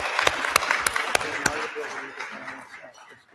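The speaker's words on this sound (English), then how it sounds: "Round of applause." A handful of scattered claps ring out at a real estate awards ceremony, sparse and fairly faint, thinning out and trailing into quiet room tone.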